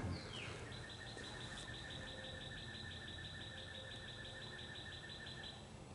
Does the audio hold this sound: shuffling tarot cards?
no